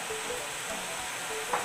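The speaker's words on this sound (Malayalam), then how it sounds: "വെളിച്ചെണ്ണ ഒഴിച്ചു. ഇനി ഇത് തിളച്ച് പറ്റാൻ വേണ്ടി നമുക്ക് വെയിറ്റ് ചെയ്യാം." Coconut oil simmering in a pan for a traditional hair preparation, giving a faint, steady hiss and soft crackle with an occasional tiny pop near the end.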